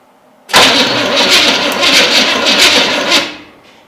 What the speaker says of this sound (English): I'm gonna go in there and crank it and show you that somehow the starter works